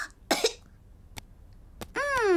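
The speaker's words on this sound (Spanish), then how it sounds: "Después tose." A single short cartoon cough from the Peppa Pig character George, then a few faint clicks and a brief rising tone that starts at the very end.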